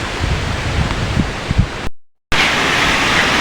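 Strong stormy wind blows steadily as broadband roaring noise with low rumbling gusts, broken by a brief dropout of silence before the blustering resumes.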